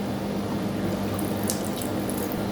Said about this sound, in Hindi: मैं इसमें आधा गिलास जितना पानी डालूँगी।